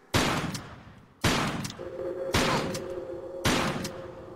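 Shotgun blasts in the Tomb Raider Level Editor game, four loud, evenly spaced booming shots about a second apart, each trailing off in a short decay, with a steady tone underneath in the second half.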